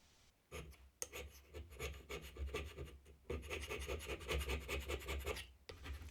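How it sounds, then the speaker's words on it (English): A carbide hand scraper is drawn across a metal part from a mini CNC lathe, shaving off high spots in a run of quick, rasping strokes that come in bursts with short pauses between them. "A carbide hand scraper is used to manually remove the high spots."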